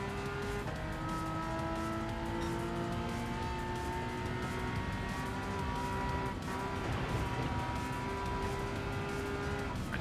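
A race car in Gran Turismo 7 on the Nürburgring brakes hard, its engine note dropping in steady falling tones while tires hiss and squeal under a continuous, dense roar.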